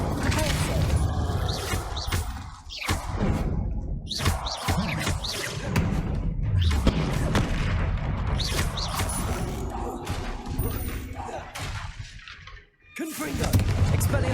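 Incendio fire spell cast in Hogwarts Legacy, a loud whooshing burst amid continuous combat booms, thuds and creaking effects, with brief dropouts between spell blasts.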